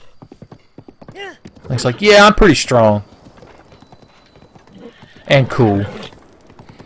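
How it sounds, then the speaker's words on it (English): A horse in a Link video game neighs loudly with a quavering whinny, then neighs again, over soft rhythmic clip-clop of hooves, while someone talks over part of it. "This horse does not like bridges."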